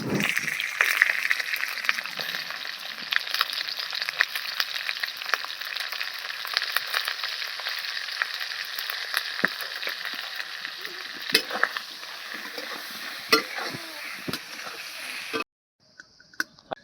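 Prawns frying in hot oil with salt and turmeric: a loud, busy crackling sizzle with occasional spatters and stirring clatter, running steadily before cutting off abruptly near the end.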